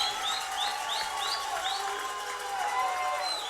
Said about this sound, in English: Sadler Smith will have to deal with this crowd getting louder